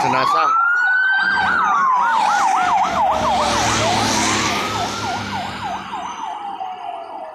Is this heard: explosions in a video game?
no